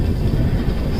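A long train on the Ahmedabad to Bhuj line rumbles along the tracks, a loud, close, dense low roar for about a second with no voices.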